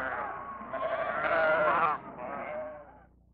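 Sheep on a high mountain pasture bleat in long, wavering calls, one drawn-out cry swelling loud before a second, shorter bleat fades away, close and clear against quiet surroundings.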